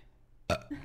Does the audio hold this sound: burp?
yes